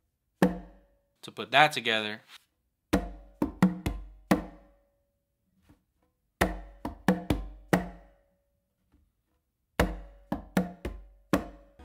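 Congas played in an up-and-down independence exercise, finger strokes combined with close slaps from the dominant hand on the tumba, giving a series of sharp, close slap hits in bursts between short stretches of spoken instruction.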